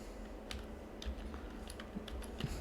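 Keys tapped on a computer keyboard while a short Python list is entered, a quiet scatter of light clicks at an uneven pace over a low steady hum, no talking.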